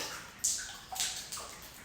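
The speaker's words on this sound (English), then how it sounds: "This is a very drippy chamber." Water drips in a wet cave chamber with puddles across the floor, three distinct splashy drops falling at irregular intervals over a faint hollow background, fairly close and quiet.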